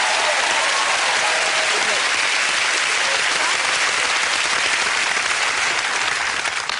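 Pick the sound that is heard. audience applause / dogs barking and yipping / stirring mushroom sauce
audience applause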